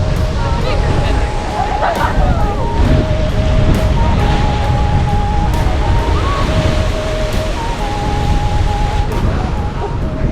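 Ocean surf surges and roars without a break at Thor's Well on the rocky Oregon coast, loud and close with wind buffeting the microphone and voices talking faintly beneath the rush.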